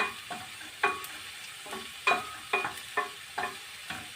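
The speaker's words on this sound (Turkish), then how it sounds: "İlk önce gördüğünüz gibi böyle soğanlarımı kavuruyorum pembeleşesiye kadar" Onions frying in a pan for bulgur pilaf, cooked until turning pink, with a soft sizzle broken by repeated sharp scraping stirs at an uneven rhythm, close and fairly quiet, no voices.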